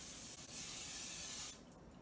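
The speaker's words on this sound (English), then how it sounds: "take your pan and your cooking spray and spray the pan" A steady hiss of cooking spray onto a pan for about a second and a half, close and fairly quiet, then it cuts off.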